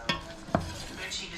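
Sausage sautéing in a pan, two quick stirring scrapes over a soft, steady sizzle, close and brief.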